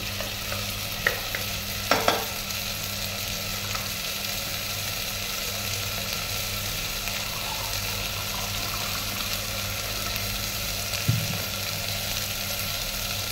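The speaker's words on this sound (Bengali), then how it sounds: "এবার মশলাটাকে আমি একটু কষিয়ে নেব।" Spice masala with bay leaf sautéing in oil, a steady low sizzle with a constant hum beneath and a few brief utensil clinks and scrapes, otherwise even and unvoiced.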